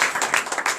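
A congregation at a Saturday morning prayer service in Comè, Benin, claps loudly together, a short burst of dense, uneven hand claps.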